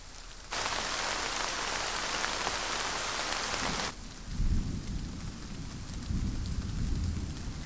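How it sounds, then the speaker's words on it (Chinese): Steady pattering rain falls alone, with a hissing downpour giving way to a deep rumble of thunder partway through, the rain continuing afterward. "我喜欢下雨天，喜欢听雨淅淅沥沥的声音"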